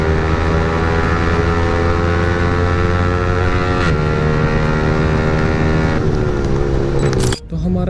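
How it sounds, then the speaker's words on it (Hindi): An R15 V4 motorcycle with an aftermarket exhaust and quickshifter revs hard and loud, climbing in pitch, then the tone drops sharply at each quick upshift, three or four times before a brief cutout. "क्विक शिफ्टर के साथ बाइक के अपशिफ्ट्स में कुछ ऐसी आवाज़ आएगी"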